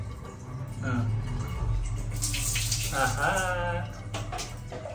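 Water splashes and pours steadily nearby while a dog is bathed, with a person talking over the running water.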